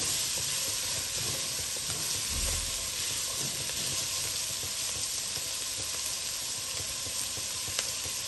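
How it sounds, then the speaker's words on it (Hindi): Bell pepper frying in a pan for egg fried rice, a constant close sizzle and hiss with faint stirring, steady and even throughout. "अब हम इसमें शिमला मिर्च डाल देंगे दो मिनट तक आपने इसको भी इसी तरह फ्राई करना है"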